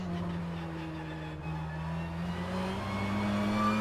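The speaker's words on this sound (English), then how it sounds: "how these cars sound as well, the transmission whine, I mean, the scrubbing of the tires" A BTCC race car engine in a racing video game hums and whines steadily with transmission whine, rising slightly in pitch, with continuous tire scrubbing and road rumble underneath.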